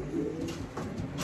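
Young pigeons coo softly and continuously at close range, a low, throaty burbling with no talk.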